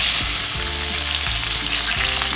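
Small shallots sauté loudly in hot oil for a fish curry, a dense, close, continuous sizzle and crackle with occasional stirring scrapes.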